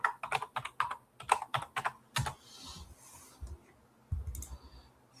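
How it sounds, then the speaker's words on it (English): Quick bursts of key clicks as a password is typed on a computer keyboard, close and clear, in uneven runs with short pauses and a few heavier thumps. "I don't feel like typing in my doggone password"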